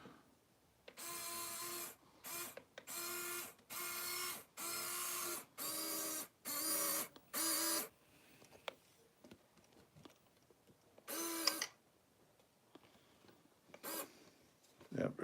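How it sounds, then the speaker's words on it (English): An RC Trail Rider 570 crawler's winch winding up in a run of loud, buzzy whirring bursts, about nine close together with brief gaps between them, then one more burst later amid quieter handling noises. "We can wind this winch up."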